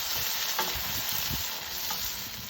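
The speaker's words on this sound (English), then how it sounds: "the chickpeas are spitting because they're shedding their skins" Drained tinned chickpeas fry and spit in a hot pan with onions, a steady close sizzle broken by a few sharp pops and crackles, with no talking.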